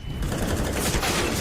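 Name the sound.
gunfire in Counter-Strike video game match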